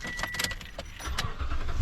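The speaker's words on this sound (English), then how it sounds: "So I'm gonna crank this truck," A Toyota Tundra pickup with 139,000 miles is started up: a brief jingle of keys, then the engine cranks and catches, rising into a close rumbling idle at the end.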